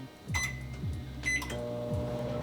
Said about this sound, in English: Into the microwave for 90 seconds on high